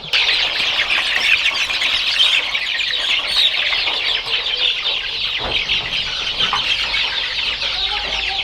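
Fifty-day-old chicks and young fowl on a poultry farm, a dense, steady chorus of clucking and peeping from many birds at once, loud and unbroken throughout.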